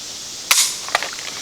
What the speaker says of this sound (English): You heard this firing pin go off.